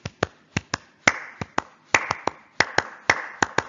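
Sharp, close hand claps play an excerpt of a piece, crisp interlocking strikes in a quick repeating pattern with brief silences between them.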